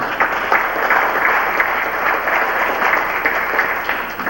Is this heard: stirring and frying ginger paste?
no